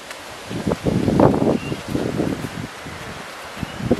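Wind blowing outdoors in gusts, a steady rustling hiss that swells and eases over a few seconds, with no voices.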